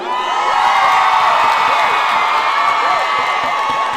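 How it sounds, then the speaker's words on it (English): Crowd at a live dancehall concert in Toronto, loud and continuous, with cheering and whooping voices filling the whole stretch and scattered claps beneath. "Give me a round of applause,"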